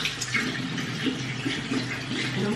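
A bathroom tap left running to warm up before washing the face, giving a steady, close, continuous rush of water with no talking over it.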